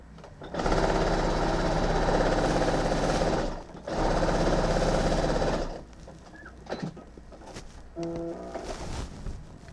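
A sewing machine stitching binding onto a quilt runs loud and steady in two long bursts with a short pause between them, then stops, leaving quieter handling noises and a few brief tones.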